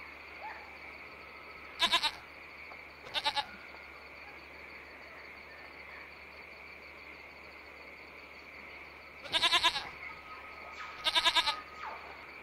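A goat bleats in the video game Lost Horizon, giving four short wavering calls in two pairs over a steady ambient hum, fairly close and moderately loud.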